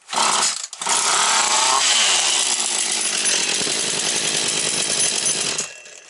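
Jonsered 2036 chainsaw starting with the choke half open, engine catching and revving loudly for about five seconds with a brief dip early on, then cutting out abruptly.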